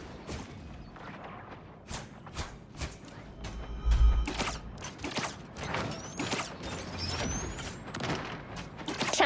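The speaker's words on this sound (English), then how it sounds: "Time for some fireworks." Video game fireworks going off in a rapid string of sharp bursts and crackling pops, some heavier thumps mixed in, loud and continuous for several seconds with no voices.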